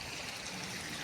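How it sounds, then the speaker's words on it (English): Natural spring water trickles steadily out of a cave along the Tea Kettle Falls Trail, a continuous close, bright watery rush with no pauses and no voices. "Came to this cave here. It's like a natural spring"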